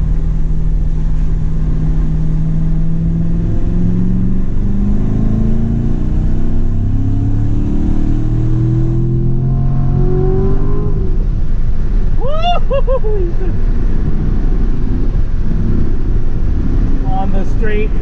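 A race car engine drones and revs on a wet, slippery track at Area 27, loud and continuous with rising pitch sweeps, while someone talks over it.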